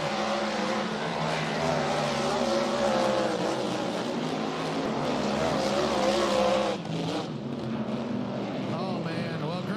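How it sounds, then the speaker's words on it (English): Loud, continuous engine roar from three racing powerboats passing close by at the Madison Regatta, a broad sustained drone that shifts pitch and dips slightly near the end. "when those 3 boats go by, Jeff, the noise and everything"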